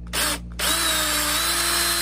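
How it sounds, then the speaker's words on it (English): A power drill bores holes in a wooden walking stick, a short burst, a brief pause, then one loud sustained whir close to the microphone. "Hold it down solid and then drill your hole."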